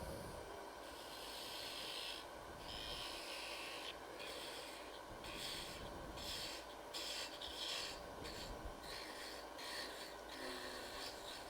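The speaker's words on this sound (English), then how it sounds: "I'm going to switch to an 1/8 inch wide parting tool." Eighth-inch parting tool cutting a wooden Christmas tree trunk on a lathe, a steady close scraping rasp with rhythmic pulses from the spinning workpiece and a constant motor hum underneath.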